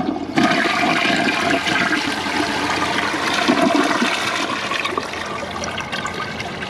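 A 1997 Vitromex Marathon slim tank toilet flushes with a loud, close rush of water that starts abruptly and surges steadily for several seconds. It then tapers slightly into continued swirling and trickling, with no talk.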